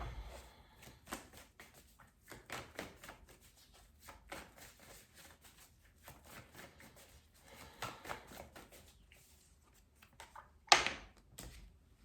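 Tarot cards are shuffled with soft, repeated riffling and tapping that comes in bursts, ending in a sharper snap near the end.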